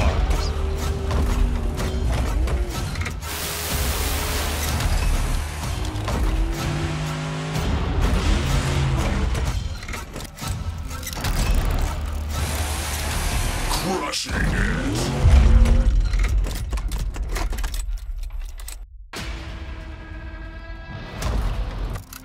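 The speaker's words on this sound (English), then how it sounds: "just the sound of the trucks and how they can just crush over cars" A Bigfoot monster truck crushes cars at a live show: heavy metallic crunching, creaking and banging under a rumbling engine, with bursts of impact and voices talking over parts of it.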